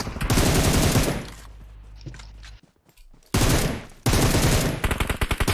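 Rapid bursts of automatic gunfire in the PUBG Mobile battle-royale game, loud and close, stopping for a quiet gap with scattered distant shots before heavy firing resumes in two dense volleys.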